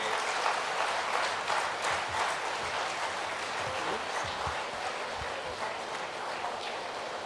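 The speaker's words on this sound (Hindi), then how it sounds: "सबसे अनुरोध है जोरदार तालियां बजा करके" Loud, sustained applause from a large crowd at a Congress party camp in Udaipur, dense clapping that holds steady throughout and eases only slightly toward the end.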